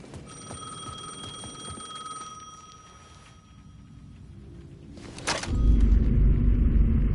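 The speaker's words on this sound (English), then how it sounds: "I needed to answer the phone." A phone rings in the video game Alan Wake, with steady repeated electronic tones over a low rumble, cut off by a loud thud and then heavy droning noise.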